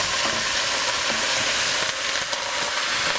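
Chuck roast with whole peppercorns beginning to fry in oil in a pan, giving a steady, loud broadband sizzle and hiss throughout with occasional stirring clatter, no talking.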